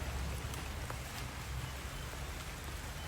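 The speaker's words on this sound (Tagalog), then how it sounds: "Ang ulan oh." Steady rain falls on flowering plants outdoors, a soft continuous patter and hiss at an even level throughout, with no voices.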